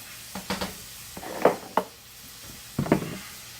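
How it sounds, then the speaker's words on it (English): Noodles being stirred in a pot for taco chili mac, a few soft scraping and sloshing strokes with light sizzling, close and fairly quiet, spaced irregularly. "Go ahead and mix some noodles up."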